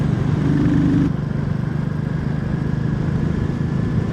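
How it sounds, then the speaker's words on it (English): A Royal Enfield Classic 350 motorcycle engine runs steadily at idle, a low, continuous throbbing rumble with no voices. "This motorcycle runs just beautifully."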